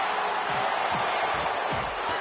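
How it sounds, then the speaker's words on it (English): A capacity arena crowd roars and cheers at a wrestling event in the WWE 2K25 video game, a steady, dense wall of noise that holds at an even loudness from start to finish. "do you hear this capacity crowd?"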